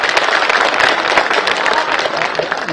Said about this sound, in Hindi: मैं चाहूंगा जोरदार तालियों से आपका अभिनंदन हम सब लोग यहां पे करें